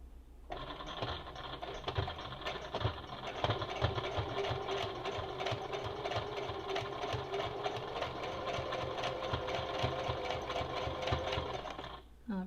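A Brother CE1125PRW Project Runway sewing machine stitches steadily with a fast, even mechanical chatter of needle and gears, close and continuous for most of the span, with no talking.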